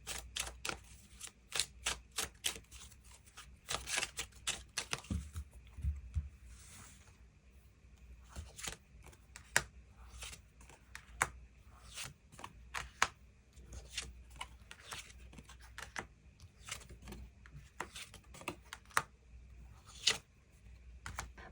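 Tarot cards are shuffled and drawn by hand, giving quiet, close crisp snaps, flicks and rustles in irregular bursts throughout, with no voice.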